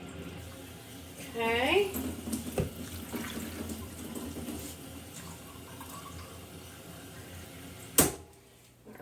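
Water runs from a tap into a measuring cup for a sauce, a steady background rush under talk, ending with a sharp clack.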